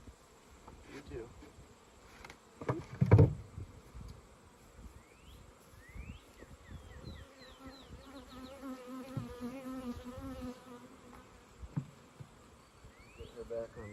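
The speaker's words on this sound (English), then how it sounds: "gotta get all the bees out of there" Many honeybees buzz close by around a hive in a continuous, wavering drone, individual insects swooping past in rising and falling whines, with some handling noises and thumps.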